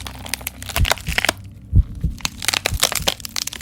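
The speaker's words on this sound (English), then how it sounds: "crunching, bones breaking." Bones breaking as a sound effect: a run of close, loud cracks and crushing snaps, with one heavy thud in the middle and a dense cluster of crunches toward the end.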